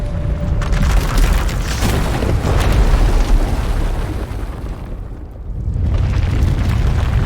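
A sustained, loud eruption roars through the collapsing asylum in SW:TOR, a continuous deep rumbling blast that dips briefly before surging again, with no voices over it.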